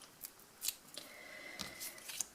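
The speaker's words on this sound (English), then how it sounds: "So let's peel those backings off" Backing strips peeled off adhesive dimensional foam pads during a Halloween papercraft project, heard as several faint, close, crisp rips and light papery rustles in an otherwise quiet room.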